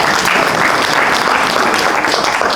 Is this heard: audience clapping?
yes